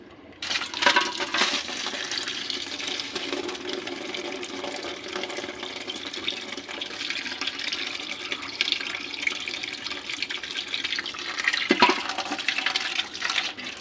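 Tap water runs steadily into a container in a home kitchen as rice is set to soak, a continuous close splashing hiss lasting throughout with a brief louder surge near the end.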